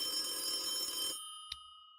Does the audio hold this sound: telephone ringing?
yes